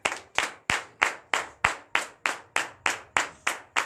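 A congregation at a morning prayer service in Benin claps in unison, about a dozen sharp, evenly spaced claps at a brisk steady beat, each with a short ringing tail.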